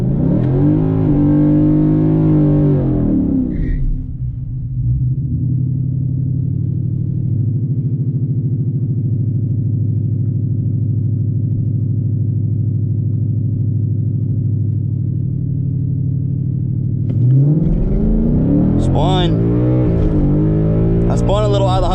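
A 2020 Coyote V8 with a 10R80 transmission on E85 making a drag strip pass, a loud sustained engine roar that rises, holds a steady drone, then climbs again with tires spinning at each shift, near and dominant throughout.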